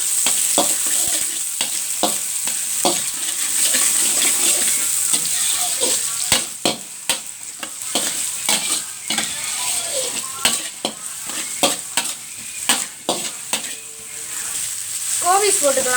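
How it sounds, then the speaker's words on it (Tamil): Green chilies and garlic sizzle loudly in a frying pan for nasi goreng while a utensil scrapes and clicks against the pan in frequent irregular strokes, close and continuous. "கொஞ்சம் கிரீன் பச்சை மிளகாய் எடுத்துக்கலாம். நல்லா கிண்டி விட்டுருக்கலாம்."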